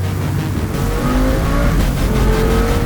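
A 2018 Jaguar F-Type R sports car engine revs hard and loud up close, the rising exhaust roar climbing through a gear, with no voices.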